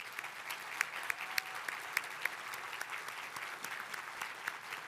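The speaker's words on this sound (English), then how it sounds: "would you all please give them a round of applause" Steady applause from a room full of people at the 2023 Solar Decathlon winners announcement, continuous clapping with a few sharper claps standing out, moderately distant and sustained throughout.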